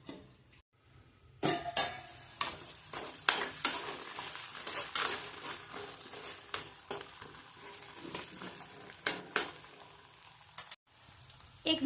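Diced potatoes for sabudana khichdi fry and get stirred in a pan, with repeated spatula scrapes and clinks over a steady low sizzle, close by, with no talking.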